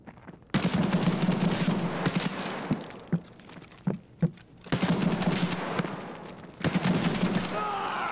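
Sustained automatic gunfire in Escape from Tarkov, loud and close, broken into several long bursts of rapid rounds with a few isolated single shots in the gaps between them.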